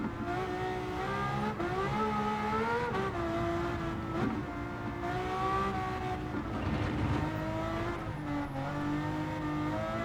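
A V12 car fitted with a semi-racing exhaust howls loudly and continuously at high revs with an F1-like wail, its pitch rising and falling through gear changes and wheel spin in fourth gear.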